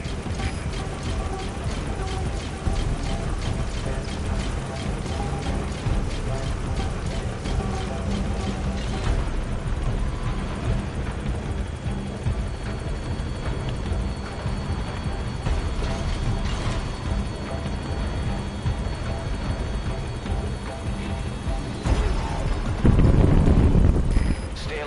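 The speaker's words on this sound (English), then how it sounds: "The chopper can't get close." Helicopter from Metal Gear Solid 5 holding steady with a continuous rotor drone and mechanical chatter under game ambience, no closer approach, then a louder burst of noise near the end.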